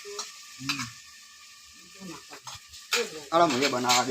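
Spice tempering for desi-style chola dhokli sizzles faintly under stirring, with people talking nearby and scattered bursts of louder activity toward the end.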